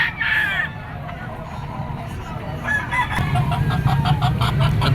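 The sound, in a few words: white-legged stag roosters clucking and crowing at a market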